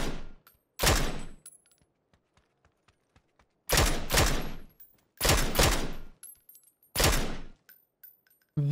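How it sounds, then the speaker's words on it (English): Four loud, close bursts of SKS rifle gunfire in PUBG after a new patch, each a sharp crack with a trailing echo, spaced a few seconds apart, with faint clicks and footsteps between them. "And the Sks now sounds like this."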